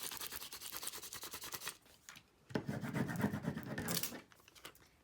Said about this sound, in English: I'm going to rub it really hard.